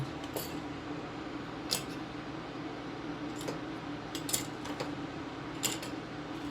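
Several sharp, quiet snips as metal leads on an electronics kit are trimmed with cutters, spaced irregularly over a faint steady background hum.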